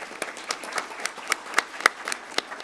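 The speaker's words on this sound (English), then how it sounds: "Would you give them all a big round of applause?" At a college board of regents meeting, a modest group in the room applauds with scattered, distinct hand claps at a steady pace.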